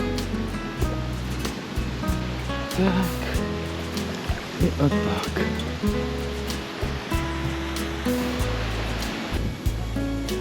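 Water sloshes and splashes steadily around a running engine as a vehicle fords a stream near Tanti in the Sierra de Córdoba, Argentina. A voice speaks briefly under the noise.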